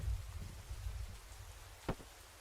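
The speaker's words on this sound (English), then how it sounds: "It's raining inside of the classroom." Rain patters indoors inside a classroom in a video game, a soft steady hiss of falling drops with low rumbling underneath and one brief sharper tap near the end, played without any voices.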